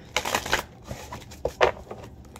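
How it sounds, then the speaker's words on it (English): Oracle cards are shuffled in a few quick riffling bursts, crisp and close, with short pauses between. "Let me get a little shuffle in, please."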